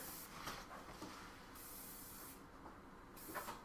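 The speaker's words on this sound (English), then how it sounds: "put in some of Josh's secret spray" Close, breathy spray hisses in a few separate bursts, with brief quieter pauses between them.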